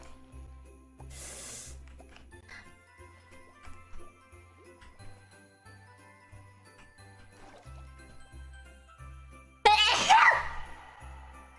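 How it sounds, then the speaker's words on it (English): A single sharp, loud sneeze bursts out near the end, after a long stretch of quiet, steady background music with soft tinkling tones. "I think I have to sneeze."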